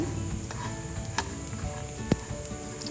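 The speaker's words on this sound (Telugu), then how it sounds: "దీంట్లో నువ్వులు కూడా వేసి ఫ్రై చేసుకుందాం ఇవన్నీ కూడా ఈవెన్గా ఫ్రై చేసుకొని" Dry coconut and sesame seeds fry in a pan with a steady, soft sizzling hiss, broken by a few light ticks and one sharp clink from stirring, close and without talk.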